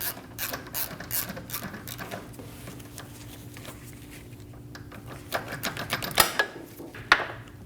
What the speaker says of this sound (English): Get the front subframe bolt loose and drop it down.